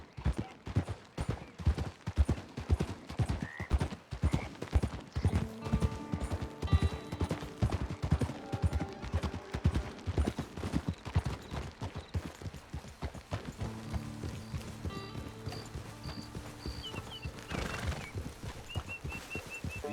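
Horse hooves clip-clop in a brisk, regular rhythm in the Red Dead Redemption Online video game, fairly close and steady, with faint whistles, chimes and game sounds layered in toward the end.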